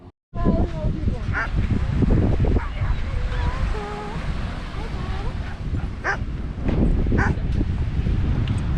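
At a beachside dog park on Venice Beach, Florida, dogs bark and yip in scattered bursts, some with whining tones, over steady surf and wind, with people talking nearby.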